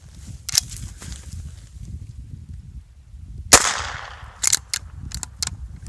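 A Henry Golden Boy .22lr rifle fires at an outdoor range, giving a few sharp cracks with one loud close shot that rings briefly, plus smaller clicks and handling noises over a quiet background.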